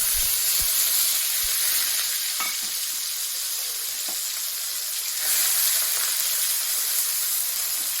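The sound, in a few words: cumin and ground spice paste sizzling in hot oil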